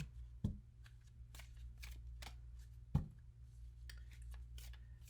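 Moonology oracle cards being shuffled, a soft papery riffle with a couple of sharper card slaps, close and quiet with no talking.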